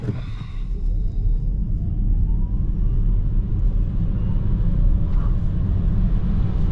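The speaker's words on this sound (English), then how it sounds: "we'll just do a quick acceleration to see how it distributes the power" A Renault Megane E-Tech electric car accelerates quickly, heard from inside as a steady low road rumble with a faint motor whine rising in pitch underneath.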